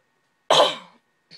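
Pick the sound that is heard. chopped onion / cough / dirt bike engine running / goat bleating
cough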